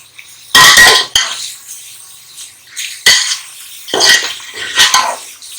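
Boneless chicken frying in a handi while being stirred, with bursts of scraping and clattering utensil noise against the pot between quieter sizzling gaps, close and fairly loud.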